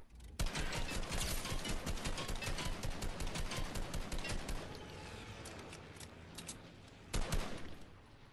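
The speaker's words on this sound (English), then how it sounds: "I thought I was gonna get sniped, but I got shot." Rapid gunfire in the video game Fortnite, with dense bursts of automatic shots rattling almost continuously for several seconds, a short lull, then another loud burst near the end.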